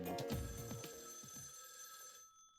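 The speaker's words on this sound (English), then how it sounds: "The telephone is ringing." An automatic-switch public telephone bell rings in the video game Raidou Remastered, a rapid metallic trill heard faintly, with soft low knocks underneath that fade out.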